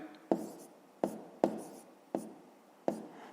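Pen strokes writing numbers in a notebook during a fifth-grade math exercise: six sharp, close taps and short scratches spaced at an uneven rhythm, clear and alone with no talking.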